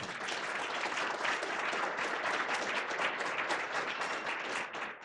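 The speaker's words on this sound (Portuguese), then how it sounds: "Eu queria um aplauso aí para a Alura." Audience applause for Alura at an accessibility business talk, a dense sustained wash of clapping from a crowd that holds steady for the full length and tapers slightly at the end.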